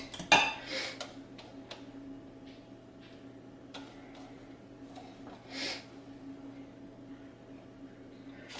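A cooking pot clanks sharply once while it is taken off the stove as cheese goes into a thickened sauce for cauliflower gratin, followed by a few softer kitchen clinks and taps over a quiet hum.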